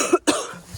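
Two sharp coughs from one person, close to the mic, on a gray, overcast morning outdoors; a short pause separates the bursts, and faint background noise trails after.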